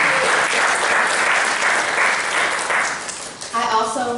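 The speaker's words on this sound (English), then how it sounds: "A round of applause for you." Audience applause at a spring graduation ceremony: a broad, steady patter of clapping from a large room that fades near the end as a voice starts speaking.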